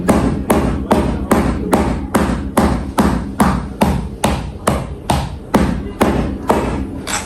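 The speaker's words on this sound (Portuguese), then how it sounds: "E aí o próprio martelo, a gente faz isso." A hammer taps repeatedly on a ballet pointe shoe to soften it, about fifteen crisp, evenly spaced thuds close by in a steady rhythm, with no talking over them.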